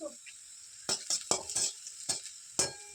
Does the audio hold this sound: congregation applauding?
no